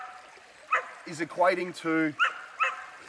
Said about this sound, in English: I got a noisy dog in the background there.